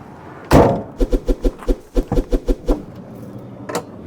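The door of an Adria Twin 600 SPB camper van is shut with one solid slam, followed by a quick run of about a dozen sharp, evenly spaced clicks or knocks and a final tap, close to the microphone.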